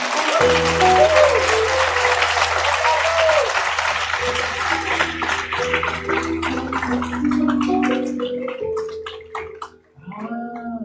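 A church congregation claps in praise while music plays underneath, sustained applause with voices mixed in that fades briefly near the end.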